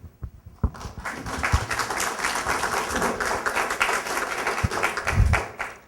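A crowd applauding steadily throughout, dense clapping at moderate loudness with a few sharper individual claps standing out.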